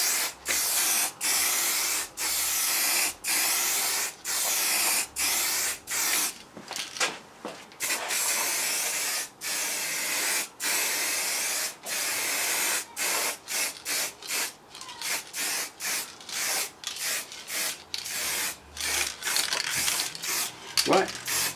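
A spray can lays a coat of paint on a motorcycle mudguard in a garage, sounding as a run of close hissing bursts, short and rhythmic at first, then quicker and more broken near the end.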